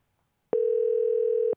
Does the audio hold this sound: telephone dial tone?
yes